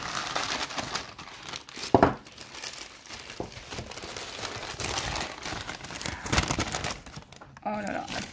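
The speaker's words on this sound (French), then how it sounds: "je vais déballer peut-être sans vous." Packaging crinkles and rustles close up as a parcel is unwrapped, with a louder crumple burst partway through and continued handling noise, while a person speaks over it.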